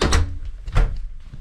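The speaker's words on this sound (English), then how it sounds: "So if we close the door" A household door is swung shut, giving two dull thuds a little over half a second apart, close and fairly loud, with no talk.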